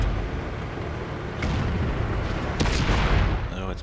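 Heavy tank cannon fire in World of Tanks on PS4, a deep booming blast rolling under a dense rumble, with a second sharper report near the end; no talking.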